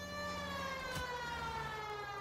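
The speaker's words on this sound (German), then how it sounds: "Mach doch mal die scheiß Sirene aus." Police car siren in the L.A. Noire video game, a sustained wailing tone with rich harmonics held steady and fairly loud throughout, with a brief thump near the middle.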